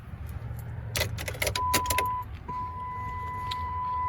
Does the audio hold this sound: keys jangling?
yes